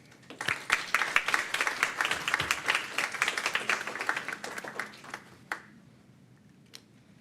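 Audience at a state board of education quarterly meeting applauding to congratulate recognized schools: dense, lively clapping from a roomful of people that holds for about five seconds, then tapers off with a few last claps.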